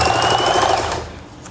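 A sewing machine stitching a cord onto a strip runs with a loud, steady mechanical whir for about a second, then slows and stops, leaving quiet room sound.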